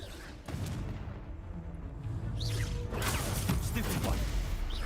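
Confringo spell cast in the video game Hogwarts Legacy, a fiery blast with whooshing bursts and booming impacts over dense rumbling battle noise. It rises after a brief dip and stays loud throughout.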